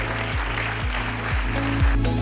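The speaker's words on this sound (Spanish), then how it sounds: "Un fuerte aplauso para el doctor Bahamonde" An audience at an international medical and scientific congress applauds a doctor after his talk, a broad wash of clapping under a repeating low tonal music pattern that runs through the whole stretch.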